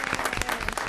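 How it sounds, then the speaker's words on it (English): Audience applause fills a city council meeting room, a dense, steady patter of many hands clapping throughout with no voices on top. "Everybody clap like your favorite baseball team just won."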